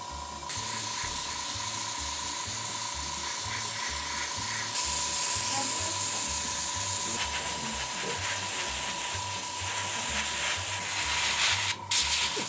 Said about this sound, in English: What we're gonna do now is spray you. Spray me, with mama. An airbrush.